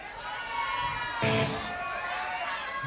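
A concert crowd at a punk show in San Francisco lets out a swelling cheer, a broad roar that peaks briefly then settles into steady crowd noise.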